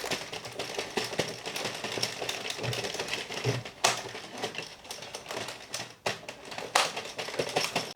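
An Addi King or Sentro 48 circular knitting machine is cranked through rows of a summer top, giving a dense, rapid plastic clatter of needles ticking steadily with brief pauses and knocks.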